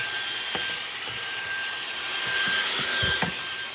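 A small handheld vacuum cleaner runs in a steady high-pitched whine with a thin tonal hum, continuous throughout, with a few light knocks and bumps as it moves over surfaces.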